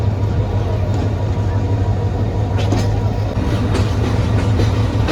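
A moving Dewanganj commuter train on the Dhaka to Jamalpur line rumbles loudly and steadily from inside a carriage, a continuous low roar with faint rattling throughout.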